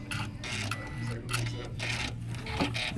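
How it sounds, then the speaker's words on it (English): A sewing machine stitches fabric for a face mask, running in several short, loud mechanical bursts with brief pauses, as for reverse stitching at the seam ends. "And don't forget to reverse stitch all of your stitches in the beginning and end to lock it in and cut."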